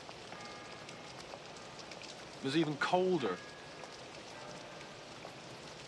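Steady rain falls outdoors, a soft continuous hiss that runs throughout, while someone speaks briefly in the middle over it.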